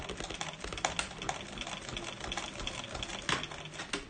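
A sewing machine basting open the seams of a Momexa bag strap, its needle running in a steady, fast mechanical chatter for the whole stretch, close and moderately quiet, with no talking.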